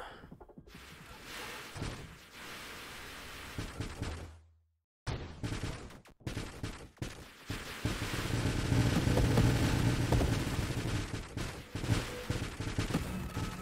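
Turrets and missiles firing in Spelunky 2, a dense rapid barrage of shots and thuds that breaks off briefly and then returns as a steady, loud stream of fire.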